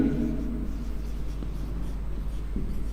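Marker or chalk scraping across a board during a chemistry lesson on equilibrium, soft scratchy strokes in short bursts under a low steady room hum.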